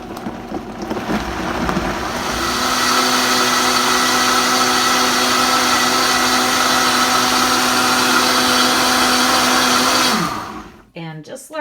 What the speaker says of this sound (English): And we do have a Vitamix